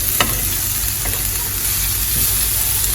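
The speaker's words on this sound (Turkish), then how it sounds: "Soğanlarımı da koydum karamelize olsun." Onions caramelize, sizzling steadily in a hot pan, with a few sharp clicks of stirring against the constant frying hiss.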